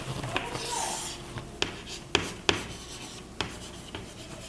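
A pen writing on paper, close, with scratchy strokes and several sharp taps as the tip meets the page, in a quiet room with no talking.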